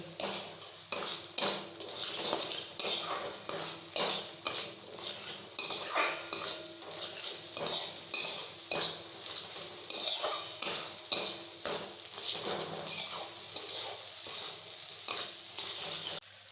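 Spice paste with chili powder being stirred and fried in a pan for a Bengali prawn curry: rapid rhythmic metal spoon scrapes and clinks against the pan over a constant sizzle, close and loud, with no talk.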